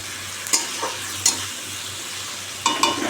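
Stirring an egg curry in a pot with a whole large onion and a potato, a soft sizzle running underneath with a few short scraping strokes of the spoon against the pan, close and fairly quiet.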